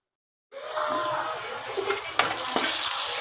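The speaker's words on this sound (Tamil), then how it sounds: "வெங்காயம் நல்லா கருகிற மாதிரி ஒரு ஸ்டேஜ் வர வரைக்கும் நம்ம வறுக்கணும்." Onions frying in a pan until browned, a steady broadband sizzle starting after a brief silence and continuing with a few sharper crackles and spatters, close and fairly loud with no talk.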